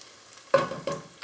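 Minced garlic hits a hot pan in a short burst, a sharp sizzle followed by a second, softer sizzle as it is stirred, close up and alone without any talk.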